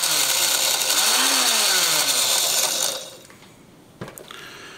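Electric spice grinder whirring loudly as it grinds dried chillies into chili powder, a high motor whine that runs for about three seconds, then stops, followed by a brief clunk.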